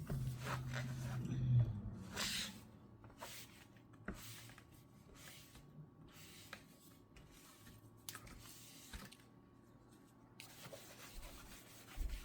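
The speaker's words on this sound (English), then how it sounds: "spray some alcohol on your rag and just wipe it down. Just take all the sand off, all the dust." Alcohol-sprayed rag wiped across a freshly sanded surface before resin coating, producing faint, uneven rubbing and scuffing strokes that come and go, quiet and close with no talk.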